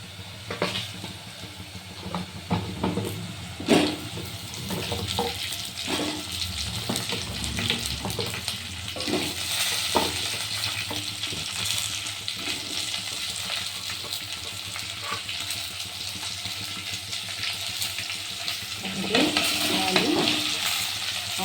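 Drumsticks frying with browned onions, turmeric and salt in a pan, a continuous hissing sizzle with repeated scraping stirs and utensil knocks, growing a little louder near the end, no talking.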